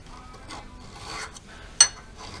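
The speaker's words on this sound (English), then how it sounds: "we'll just keep working on it with the file here" A hand file rasps across the wooden handle of a homemade carving knife in a few short, quiet scraping strokes, close by, ending with one sharper, louder scrape.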